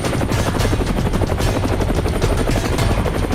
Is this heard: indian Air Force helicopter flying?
yes